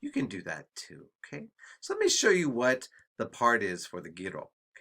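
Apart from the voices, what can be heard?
None of the usual background noises is heard.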